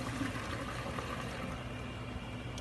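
Hot water poured off boiled potatoes and eggs into a strainer, a steady close rushing splash that holds at an even level throughout with no pauses.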